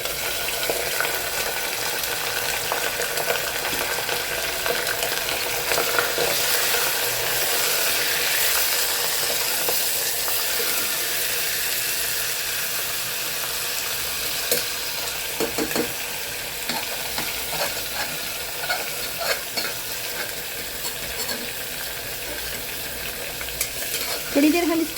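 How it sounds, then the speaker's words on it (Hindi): Coarse fatty minced keema sizzles in hot oil over browned onions, a loud continuous frying hiss with occasional stirring scrapes, no talking. "थोड़ी देर हम इसको ऑयल में भून लेंगे ताकि इसका पानी जल जाए।"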